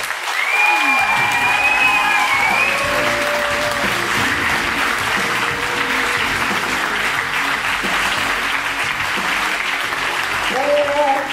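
A crowd applauds the match referee at the closing night of a French improv theatre festival, dense and sustained clapping filling a large hall, with cheers and whoops rising over it and voices mixed in.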